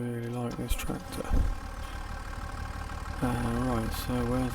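A tractor engine idles steadily in Farming Simulator 25 on the Zielonka farm, a low continuous hum beneath someone talking throughout.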